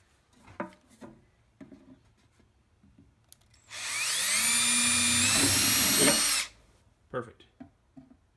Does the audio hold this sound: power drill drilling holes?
yes